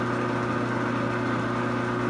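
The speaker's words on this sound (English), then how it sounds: "Now I'm cutting it off with 1/16 of an inch thick head there." A metal lathe turning slowly at about 70 RPM while parting off a threaded part with a 1/16-inch tool, giving a steady, even mechanical hum with a faint rough cutting texture throughout.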